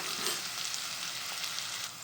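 Ginger-garlic paste fries in a pan with a constant, gentle sizzle and light crackling, close and fairly quiet, with no voices over it.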